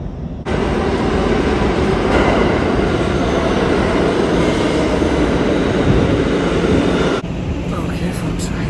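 A New York subway train bound for Far Rockaway roars loudly and steadily for several seconds, a dense rumbling rush that cuts off sharply near the end.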